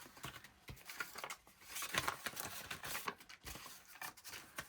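Scissors snipping coffee-dyed paper scraps, a quick irregular series of close, crisp cuts and rustles.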